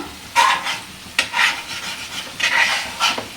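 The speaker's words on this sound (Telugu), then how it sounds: "ఇప్పుడైతే కలుపుకుందాం." Spoon scraping and stirring paneer masala in a pan, a few distinct scraping strokes at irregular intervals with faint sizzling underneath, close and alone.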